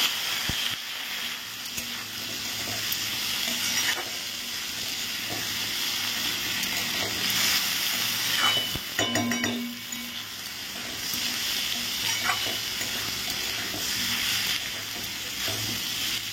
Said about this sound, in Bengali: এদিকে দেখো বেগুন ভাজা বসিয়ে দিয়েছি